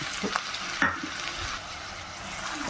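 Onions sautéing in hot oil with green chilli and ginger, a loud close sizzle with a few quick scrapes and knocks of a stirring spoon at the start.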